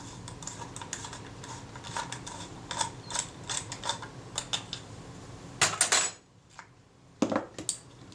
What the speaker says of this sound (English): The retainer ring is coming loose.